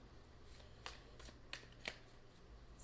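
Tarot cards being shuffled at a table, with several quiet riffling bursts spread through a soft, steady background.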